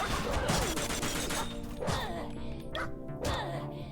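Stray dogs in a video game, barking in repeated sharp bursts with yips mixed in, loud and close amid clattering crash-like game sounds.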